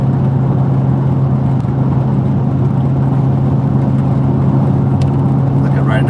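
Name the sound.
car driving fast on Highway 101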